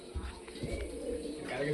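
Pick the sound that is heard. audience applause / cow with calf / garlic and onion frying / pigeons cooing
pigeons cooing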